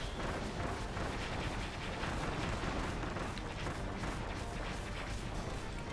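Continuous rumbling blasts of bombs in Kirby and the Forgotten Land, dense, loud and sustained, with crackling bursts layered over a heavy low roar throughout.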